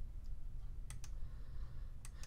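Sparse computer keyboard keystrokes during embroidery digitizing software work, a few separate sharp clicks, two close together and then another pair, faint over a steady low hum.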